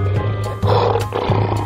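A lion's roar from a cartoon animal-transformation scene, loud and sustained with a low rumbling tone swelling twice across the short span, no talking over it.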